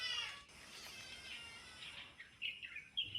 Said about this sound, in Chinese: 细数手机播放的是焦耳焦糖的叫声